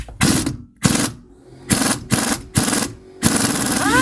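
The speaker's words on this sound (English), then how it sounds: "if you can get an impact wrench or any kind of driver that takes this nut off really fast" An impact wrench removes the strut nut on a Sprinter van strut from a Winnebago View Navion, firing in five or six loud rattling bursts separated by short pauses, close up, with no talk.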